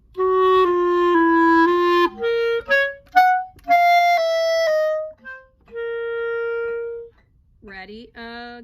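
Solo clarinet plays an etude passage of sustained notes with slurred steps and a short run near the end, loud and close, with no talk.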